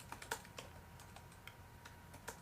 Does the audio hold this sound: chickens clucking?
no